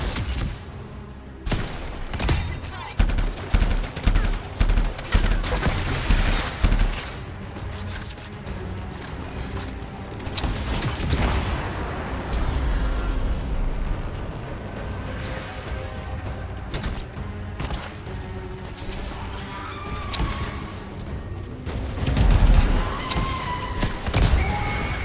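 Gunfire from the video game Anthem, dense bursts of shots, impacts and crashing explosions that continue through the whole stretch with heavier thuds near the end.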